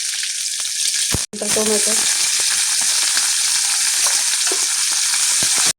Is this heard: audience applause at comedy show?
no